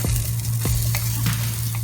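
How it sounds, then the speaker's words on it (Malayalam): Chopped onion and garlic sauté in a hot pan with a steady, loud sizzle and soft stirring scrapes, close up and continuous. "ഇനി നമുക്ക് നന്നായിട്ട് മിക്സ് ചെയ്ത് ഒന്ന് വഴറ്റിയെടുക്കാം"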